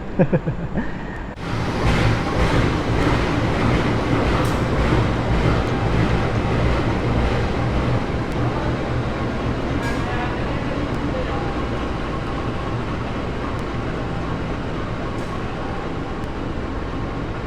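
A KA Manahan extra passenger train runs with a loud, steady rumble and rolling rail noise after a brief quieter start, continuous and close throughout, with a voice talking faintly beneath.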